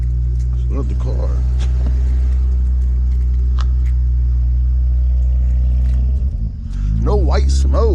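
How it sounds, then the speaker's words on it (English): An Infiniti Q50 sedan's engine runs at a steady, loud idle low rumble for several seconds, then dips briefly and picks back up; keys jangle faintly early on and a few short sounds break in near the end. "start the car."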